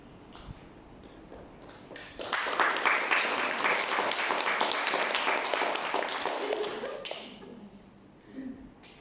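Audience applause fills a seminar hall, a dense sustained clapping that swells in, holds steady for several seconds, then fades, with a few stray claps trailing at the end.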